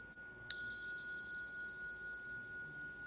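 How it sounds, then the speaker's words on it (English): A single bright bell strike rings out clearly, its tone sustaining and slowly fading over a few seconds against a quiet background. "we're in a time of abundance of beautiful bells"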